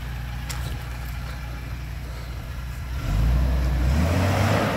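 A Toyota Landcruiser engine idles with a low rumble while manoeuvring slowly over an obstacle, then swells louder and deeper near the end as it takes on more throttle.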